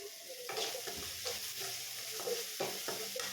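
Maggi ingredients fry and sizzle in a pan while a utensil stirs them with repeated scraping strokes, steady and close with no talking.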